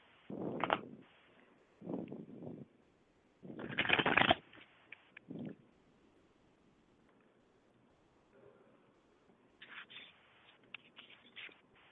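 Tarot cards being shuffled and drawn for a relationship reading, heard as several brisk riffling bursts and soft snaps, fairly close and quiet with no talking, separated by short pauses and light card-handling sounds.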